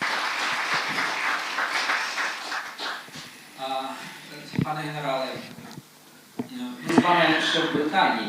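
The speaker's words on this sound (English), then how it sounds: "Let's applaud." An audience at an international rehabilitation forum applauds, a burst of clapping that fades and then returns, mixed with people talking.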